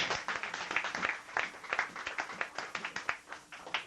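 Church audience applause during a sermon, a faint, quick, uneven patter of many hands clapping for a few seconds with no voices.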